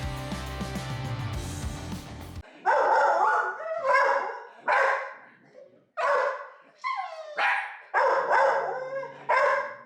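Dogs bark in a series of sharp, loud bursts with short gaps between them, following a stretch of music at the start.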